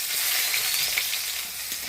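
Whole cumin seeds and chopped onion sizzle in hot oil for a Bengali fish curry, a close, steady, hissing fry with small crackles and no talking.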